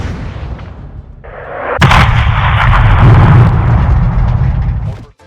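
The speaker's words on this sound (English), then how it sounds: "The 105mm cannon hits, and the whole screen lights up." A 105mm cannon fires in the Modern Warfare 2 video game: a sudden heavy boom followed by a long, loud rumbling roar of impact and debris that sustains for several seconds before cutting off.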